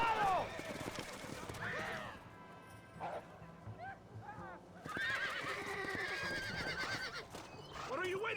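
Horse whinnying in the Red Dead game, set in Mexico, with hoofbeats, barking dogs and game voices talking over the scene, the neighs rising loudly at the start and again midway.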